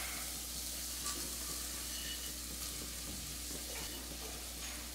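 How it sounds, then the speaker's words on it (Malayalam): Moong dal sizzling steadily in hot oil in a pan while being stirred, a constant close frying hiss with faint scraping, no voices present. "പരിപ്പിട്ടതിന് ശേഷം നമുക്ക് ഒരു 1-2 മിനിറ്റ് ഇതുപോലെ ഒന്ന് നന്നായിട്ടൊന്ന് ഇളക്കി കൊടുക്കാം"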